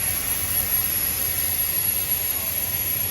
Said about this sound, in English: You can really hear a building of steam.